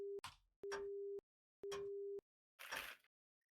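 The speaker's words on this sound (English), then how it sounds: "The voicemail ends." Three steady beeping phone tones, evenly spaced and clear, followed by a brief burst of noise as a voicemail comes to an end.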